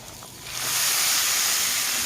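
A spice tempering is poured into a curry and hisses into a loud, sustained sizzle that swells in after a quiet start and stays steady.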